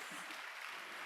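Applause from the congregation at a Sunday church service, a dense, even patter of many hands clapping, faint and continuous for the whole moment, with no voices over it.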